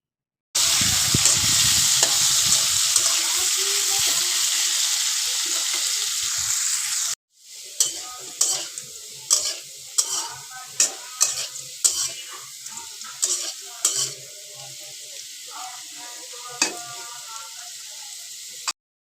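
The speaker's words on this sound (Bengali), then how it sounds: "আলুগুলো লাল লাল করে ভেজে নিব" Potatoes frying in a pan give a loud steady sizzle for several seconds. Then comes a run of sharp clinks and scrapes as a utensil stirs them against the pan, with the sizzle still beneath.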